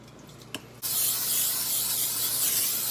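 Cooking spray hisses onto the underside of a cupcake mold in one long, steady, close burst after a brief click from the can.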